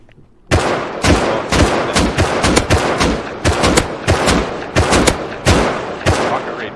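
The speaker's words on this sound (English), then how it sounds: "I can actually hear the rocket firing from the launcher." Rust rockets fired from a launcher during a cargo raid: a dense run of loud, sharp blasts at an irregular rhythm, roughly a dozen close bangs packed over several seconds, with no talk over them.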